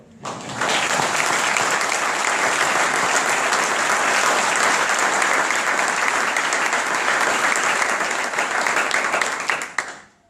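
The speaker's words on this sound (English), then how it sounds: "Please join me in a round of applause for him." A round of applause from the audience at a military assumption of command ceremony at West Point, rising quickly into loud, sustained clapping for about nine seconds before fading out.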